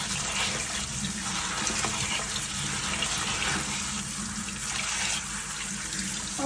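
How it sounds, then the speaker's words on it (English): Tap water runs steadily into a kitchen sink while potatoes are washed, a close, continuous splashing rush with slight shifts in flow throughout. "I'm washing the potatoes"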